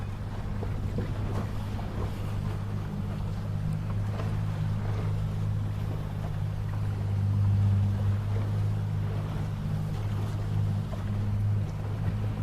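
ILCA 6 sailing dinghies moving at a youth championship regatta, heard as a steady low wind and water rush from a nearby boat that holds throughout with no talking.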